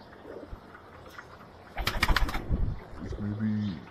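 Saharanpuri pigeons flapping their wings in a sudden close burst, followed by soft cooing, with a voice talking faintly in the background.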